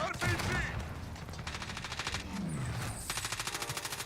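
Rapid automatic gunfire bursts in the video game Warzone 2.0, repeated rattling volleys with short gaps mixed with game effects, fairly loud and continuous, with a voice briefly heard amid the shooting.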